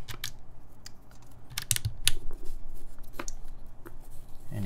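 Sharp plastic clicks and taps of keycaps being pushed onto mechanical keyboard switches on an Alchemy AL.6 build, irregular and close, with no talking.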